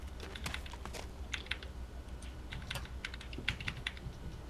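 Rapid taps on a computer keyboard during an ARMA 2 PC game session, including a double press of the shift key, a steady scatter of crisp clicks throughout with no talking.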